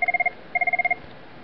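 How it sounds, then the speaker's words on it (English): An IP phone on a Cisco CUBE call rings with two bursts of rapid electronic trills, the first short and the second longer, clear and close, followed by a faint quiet tail. "We see the phone ringing."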